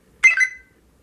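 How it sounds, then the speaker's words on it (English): A mobile phone gives a single short electronic notification chirp, clear and fairly close, against an otherwise quiet background with no talking. "Oh, that was my phone."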